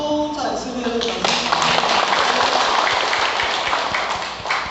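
An audience applauds in a Buddhist hall during a closing ceremony. Dense, steady clapping fills the room while a voice carries on over it.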